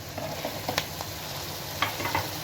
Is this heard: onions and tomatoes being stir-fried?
yes